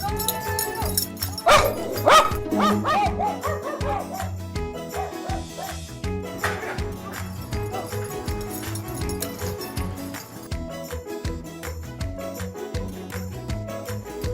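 Dogs barking and yipping in a played recording about aged dogs, the barks mixed with background music and other noise, fairly loud and recurring throughout.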